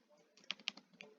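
Keys clatter on a computer keyboard, a short burst of a few quick clicks with a couple of sharper taps, faint and close in a quiet room.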